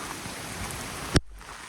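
Heavy rain from Hurricane Ian pours down in Orlando, Florida, a dense continuous hiss close by that cuts off abruptly with a sharp click.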